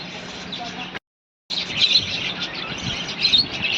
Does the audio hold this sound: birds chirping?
yes